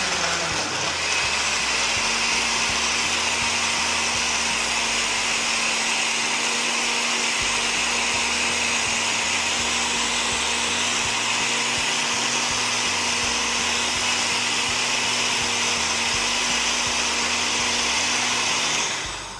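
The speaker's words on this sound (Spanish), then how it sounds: "En casa déjelo licuar todavía mucho más." A blender whirring steadily through a smoothie drink made to be taken for weight loss, a loud continuous motor drone with a sustained hum, running alone without talk.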